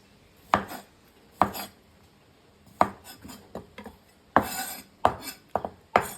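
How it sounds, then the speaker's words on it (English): Pickles being cut with a knife on a cutting board, a series of crisp, close chopping thuds arriving at irregular intervals, quiet in between, with a quicker cluster of cuts toward the end. "Now I just have to cut up my pickles"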